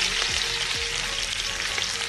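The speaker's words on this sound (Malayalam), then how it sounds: "ഇനി നമുക്ക് ഇതിലേക്ക് സവാള ചേർത്ത് കൊടുക്കാം." Chopped onions hit hot oil in a pot for chicken biryani, a steady loud sizzle and crackle with a few stirring scrapes, close by and continuous with no talking.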